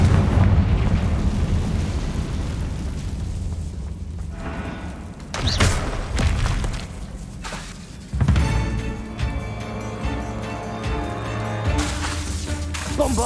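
Confringo blasting spells explode in the Hogwarts Legacy video game, giving several heavy booms and crashing bursts with debris-like rumble, loud and close, amid a continuous game soundscape.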